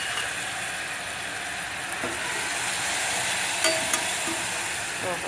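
Sabudana khichdi mixture is stirred and sizzles in a cooker: a steady bright frying hiss with a few scraping clicks from the spoon, close and alone.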